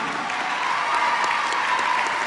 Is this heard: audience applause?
yes